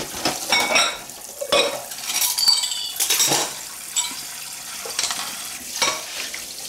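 Dishes and cutlery being washed after cooking, with clinks and scrapes of metal and crockery, light water splashes and intermittent rattles in an uneven rhythm, close and moderately loud.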